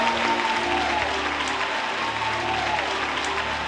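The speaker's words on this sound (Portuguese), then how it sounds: "Aplauda o nome do Senhor Jesus e tome o seu assento." A church congregation at the Igreja Evangélica Congregacional de Bento Ribeiro claps together in loud, dense, steady applause that fills the room for several seconds without a break.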